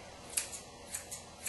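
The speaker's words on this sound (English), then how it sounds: "notice I'm still using the curved scissors" Curved grooming scissors snipping a dog's coat around the hip and leg, a handful of crisp, quiet metallic snips at uneven intervals, close up against a faint room hiss.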